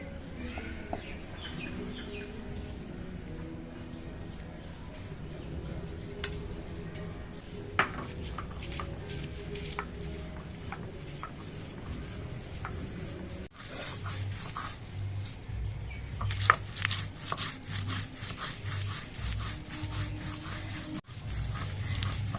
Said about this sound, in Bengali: আমি এই বাটাটা শিলেই বাড়ছি